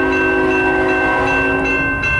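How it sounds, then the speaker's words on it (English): A CN M399 westbound mixed freight train passing close by, its horn sounding one loud, sustained, chord-like blast that fills the whole moment with low rumble beneath. "Here's train."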